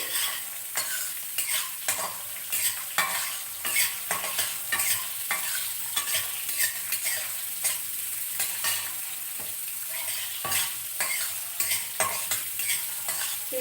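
Ginger and spices sizzle steadily in a hot pan while a spoon scrapes and stirs in a quick, repeated rhythm; no voices.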